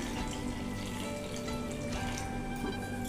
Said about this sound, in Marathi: त्याच्यामध्ये थोडे पाणी अजून ॲड करते